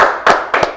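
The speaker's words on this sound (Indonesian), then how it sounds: "tepuk tangan dulu yuk buat Bapak Sudarsono." A few hand claps from an audience at a public open house training-centre event, three soft bursts spaced across under a second, fairly close with a roomy background.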